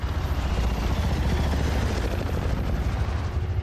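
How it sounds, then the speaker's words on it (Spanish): Soviet military helicopters in Afghanistan, a dense continuous rotor thudding and roar, loud and close throughout, with no voices. "Solo los helicópteros soviéticos logran localizarlos."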